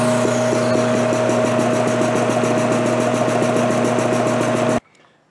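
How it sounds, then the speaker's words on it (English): An old, greasy air compressor running with a loud, steady mechanical drone and rapid rhythmic pulsing that cuts off abruptly near the end, leaving faint rustle. "firing up the greasy old air compressor"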